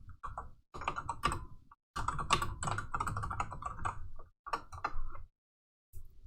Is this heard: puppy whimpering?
no